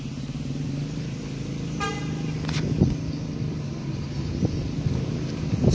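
A convoy of coaches arriving at a Marbungo bus terminal sounds brief musical telolet horn toots over a steady rumble of engines and traffic, with a couple of horn bursts standing out.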